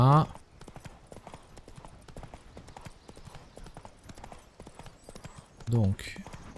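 Steady clip-clop of horse hooves as a horse canters through a forest in The Witcher III, rhythmic and fairly close, with someone speaking French over it and brief louder sounds at the start and near the end.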